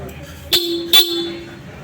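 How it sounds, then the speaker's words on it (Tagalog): Two short, sharp horn beeps sound close by in quick succession, each a bright nasal toot lasting a fraction of a second. "Sir, pakibusina nga po."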